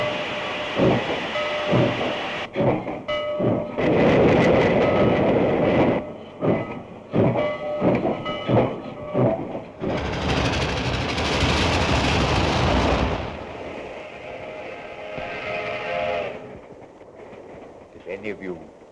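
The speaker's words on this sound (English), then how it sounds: "it was a late train pulling out of the P&M station for Los Angeles" A late train pulls out of a station, rumbling and clattering with hissing and rhythmic knocks, building to a loud whooshing roar before easing off.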